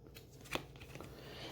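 Tarot cards being shuffled by hand, a soft quiet riffle with one sharper flick in the middle and light papery rustling around it, no talk.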